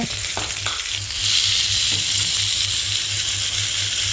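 Spices tempering in hot oil for South Indian rasam, a steady loud sizzle and crackle from the pan with a few faint clinks and stirring touches near the start.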